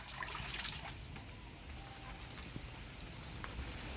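Water trickles and splashes steadily over a surface, like pouring during a bath, with a continuous wet dribble close by.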